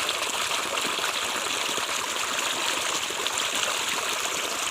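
Water pours steadily from a pipe into a farm field, a continuous rushing splash close by with no break and no talk.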